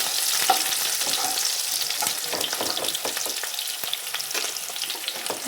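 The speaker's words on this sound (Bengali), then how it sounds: "এবার এখানে এটা লাল লাল করে ভেজে নেব।" Tamarind sizzles in hot oil with Kashmiri chili powder, cumin and salt, a steady close crackle and hiss with scraping stirs breaking through, and no talking over it.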